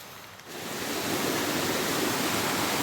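A tall waterfall at the source of the Shivganga river pours down a mountainside, giving a loud, steady broadband rush that swells in after a brief dip and then holds without a break.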